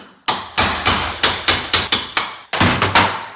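A hammer strikes metal about a dozen times in a steady, fairly quick rhythm, sharp and close, with one brief pause partway through, tapping out a roll pin on a Ford ZF6 transmission.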